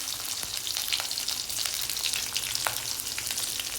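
Cumin, garlic and slit green chillies frying in oil, giving a steady, close sizzle with light crackles and spatters across the whole moment, with no voices over it.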